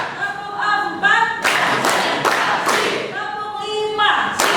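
A Grade XII Indonesian-language class claps in a counted ice-breaker pattern, sharp close bursts of clapping in short groups alternating with a teacher's voice calling the counts.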